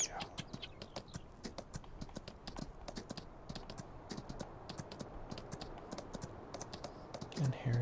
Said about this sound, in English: I'm going to go ahead and take her out for a full gallop.